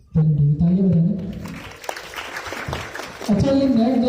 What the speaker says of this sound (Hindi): तालियां बताएं।